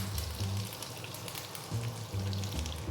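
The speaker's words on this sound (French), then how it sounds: "On va les laisser rôtir. On va bien faire caraméliser avec le sirop." Pineapple roasting and caramelizing in syrup in a hot pan gives a steady, moderately loud sizzle throughout, with low bubbling pulses rising and falling in a few bursts and no talking.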